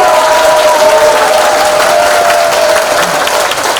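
A meeting hall full of residents claps steadily for a redevelopment association's inaugural meeting, a dense, loud wash of applause with a faint sustained tone running through it.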